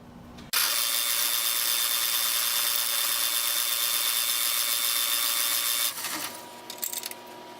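A metal tube for a wheelbarrow hub is bored out on a lathe, a loud steady grinding whine of cutting that starts abruptly and runs for several seconds before winding down with a few clicks and clatters.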